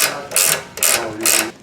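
A hand ratchet tightens a bolt during a rear lift kit install on a Chevy Silverado 1500, giving three quick, close, loud bursts of clicking strokes.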